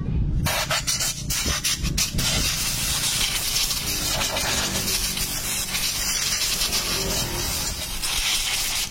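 Steady, loud hissing spray aimed at a Honda Beat FI motorcycle engine ahead of disassembly, continuing without a break and close by.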